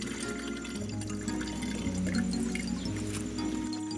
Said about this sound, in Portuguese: Jogar bastante água.